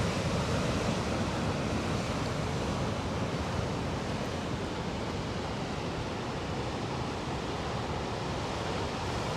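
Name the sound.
ocean waves on the coast at Baiona, Galicia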